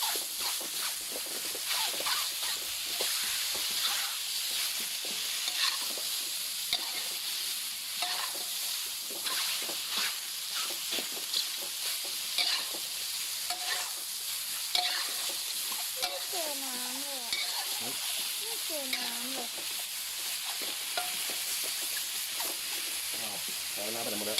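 Steady frying sizzle of luffa in a pan with stirring clatter throughout, a dense hiss filling the pan, with a few brief voice-like sounds near the end.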